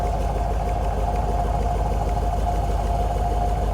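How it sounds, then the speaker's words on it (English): Steady idle of a finely tuned 1971 Corvette Stingray, its exhaust a smooth, constant low rumble heard close and alone, with no voices. "I wanted you to hear the exhaust"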